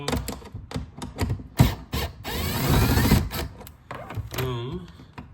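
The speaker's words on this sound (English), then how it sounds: "you're going to take these 7mm bolts out, like so" A tool backs out small 7mm bolts by the reverse light of a 2024 Mustang GT S650. It gives close mechanical clicks in quick bursts, then a longer whirring stretch, with scraping handling noises and no talking over it.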